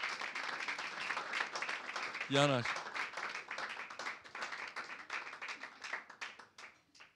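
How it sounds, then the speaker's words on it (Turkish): A church congregation claps steadily, with a brief voice calling out near the start and the applause fading away at the end. "bir alkış alalım mı bu öğrencilerimize?"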